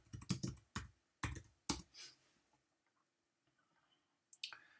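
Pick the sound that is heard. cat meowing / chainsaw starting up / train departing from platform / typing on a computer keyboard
typing on a computer keyboard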